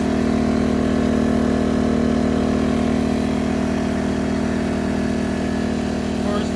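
Firman W01682F portable generator running steadily after startup, a loud continuous engine drone with a strong low hum that stays even and close throughout.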